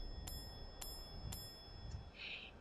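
A small bell in a video game rings four times, three evenly spaced bright strikes and then a fourth softer one, followed by a short chime. The sound is clear and quiet over a low background hum.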